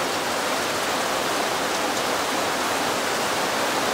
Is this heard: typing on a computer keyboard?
no